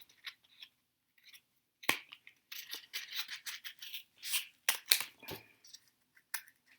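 Intermittent snips and rustles of scissors cutting material, close up, in short irregular bursts separated by quiet gaps.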